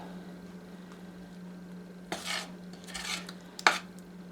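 A few soft scraping stirs of a spoon through a thick potato batter for potato pancakes in a bowl, with a light clink, over a steady low hum.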